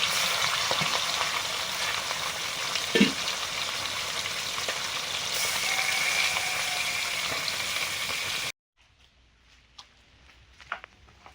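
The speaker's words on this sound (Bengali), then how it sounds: "এই কড়াতে মাছগুলো ভাজছি।" Fish frying in a wok gives a loud, steady, close sizzle with a few stirring knocks for about eight seconds, then cuts to near silence with faint scattered clicks.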